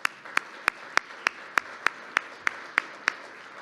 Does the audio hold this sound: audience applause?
yes